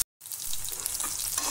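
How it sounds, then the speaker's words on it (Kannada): Chopped brinjal, green chillies and garlic frying in hot oil for a chutney; after a brief silent moment, a dense, even sizzle crackles up close and stays loud and constant. "ಇದೊಂದು 5 ನಿಮಿಷ ಎಣ್ಣೆಯಲ್ಲಿ ಚೆನ್ನಾಗಿ ಉರಿಯಲಿ."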